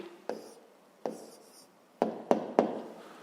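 A pen jotting down the answer to a fifth-grade math exercise, heard as a handful of soft, close strokes and taps, two spread apart, then three in quick succession, with no voice over them.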